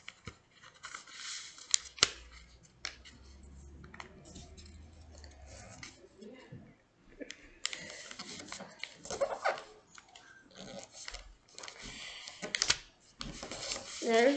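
Sheets of paper are folded and creased into a paper airplane, with crisp rustles, scrapes and taps rising and falling in bursts over a low background hum.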